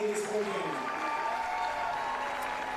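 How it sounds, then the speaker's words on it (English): A baseball crowd applauds the Canberra Cavalry, steady clapping spread across the stands while a commentator talks over it. "as the crowd gives the Canberra Cavalry a round of applause for coming out"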